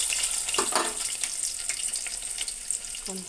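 Onions and tempering seeds fry in hot oil with a constant hissing sizzle, broken by a few louder crackles and spatters at close range.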